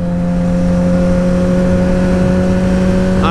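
Vehicle engine holding a steady, loud drone while riding a wheelie, with a brief rising rev at the very end.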